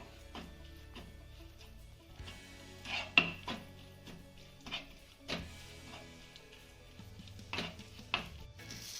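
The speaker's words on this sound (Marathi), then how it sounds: "हे आलं ना आपल्याला तुपामध्ये दोन मिनिटं चांगलं परतून घ्यायचंय" Ginger sautéed in ghee in a pan, heard as intermittent spatula scrapes and metal clinks against the pan over a faint background, with little sizzle.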